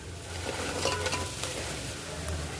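Paneer added to onions sizzling in a pan for paneer Manchurian: a brief, steady frying hiss with light stirring scrapes and small clinks, close and without talking.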